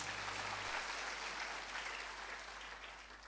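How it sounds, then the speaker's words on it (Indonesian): Church congregation during a sermon applauds in praise, a broad wash of many hands clapping that fades slowly over a few seconds, heard alone without talk. "Kasih tepuk tangan bagi Tuhan Yesus."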